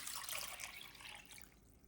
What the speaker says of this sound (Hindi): इसमें पानी डाल लेते हैं।